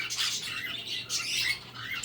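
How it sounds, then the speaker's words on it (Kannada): A tame coconut lorikeet gives harsh, raspy squawks in several close bursts, with one sharp shriek near the end and no voices. "ಇದನ್ನು ನಾವು ಲಾರಿಕೇಜ್ ಅಂತ ಕರಿತೀವಿ ಕೋಕೋನಟ್ ಲಾರಿಕೇಜ್ ಅಂತ ಕರಿತೀವಿ"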